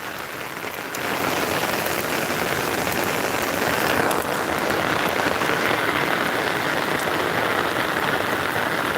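Heavy rain pours down in a dense, roaring hiss that swells a little after the first second and stays strong and even throughout.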